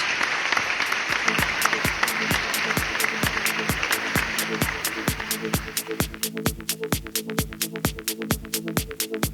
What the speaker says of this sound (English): Amidst applause from the audience, everybody, please